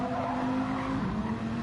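A Dodge Viper race car in Gran Turismo 7, its engine droning as a steady sustained tone that shifts pitch slightly midway, fairly quiet with no voices.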